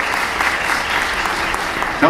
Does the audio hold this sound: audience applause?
yes